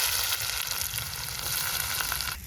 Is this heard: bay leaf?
yes